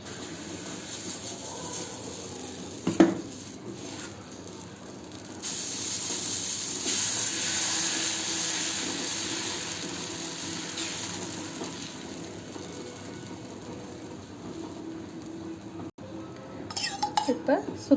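Dosa batter is poured and spread on a hot pan, starting with a utensil clink, then a loud steady steamy hiss that gradually softens, ending with light clatter of kitchenware.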